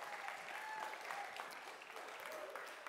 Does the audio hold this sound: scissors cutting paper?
no